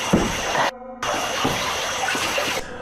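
Water splashes and gushes beneath a bridge at night, loud and rushing, broken by a brief silent cut before the watery wash resumes and fades.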